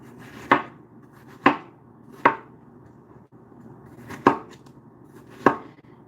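Knife chopping food on a cutting board in a home kitchen, five sharp, evenly spaced chops with short pauses between, close and clear over a faint background hum.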